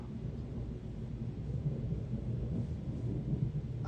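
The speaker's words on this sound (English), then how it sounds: "I hear the thunder never stopping over there." Distant rolling thunder rumbles low and continuous during an ongoing storm, a faint, steady roar with no voices over it.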